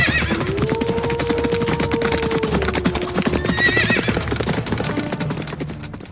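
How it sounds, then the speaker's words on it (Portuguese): Horses fleeing at night: a long, loud whinny rises over rapid, dense clip-clop hoofbeats, followed by a second fainter neigh as the galloping continues. "misturado ao som dos cavalos que fugiam em desespero, seus relinchos ecoando na noite como gritos de pânico."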